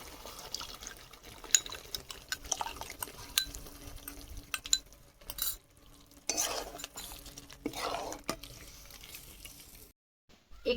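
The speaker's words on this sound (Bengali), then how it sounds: "এই যে বাটি ধোয়ানে জলটা আমি দিয়ে দিচ্ছি" Water from rinsing a bowl is poured into cauliflower roast masala in a pan, giving quiet splashing and wet stirring scrapes that come and go with short silent gaps.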